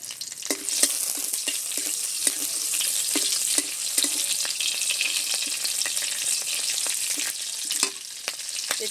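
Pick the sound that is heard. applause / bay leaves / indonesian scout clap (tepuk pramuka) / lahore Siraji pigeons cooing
bay leaves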